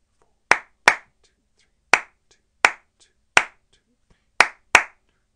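Hand claps tapping out a 5 against 4 rhythm: eight sharp, close claps in an uneven grouped pattern, some in quick pairs, with silence between and no voice.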